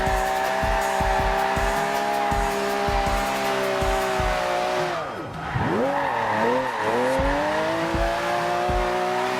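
A 2013 Mercedes-Benz E63 AMG rear-wheel drive in Forza Horizon 2 drifting, its engine droning steadily as tires squeal in long sliding whines that bend in pitch while the throttle shifts, no voices.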